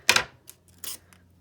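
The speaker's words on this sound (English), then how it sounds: "I push a little piece down, hold it up, cut it down the middle." Scissors snipping through a small piece of paper, a few quick crisp cuts with short pauses between them, close and quiet with no talk.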